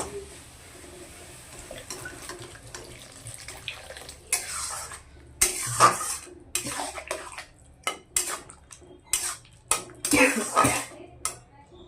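Water is poured into a cooking pot for fruit chutney, giving splashy bursts and metallic clinks of a utensil against the pot, after a quieter stretch of low kitchen noise.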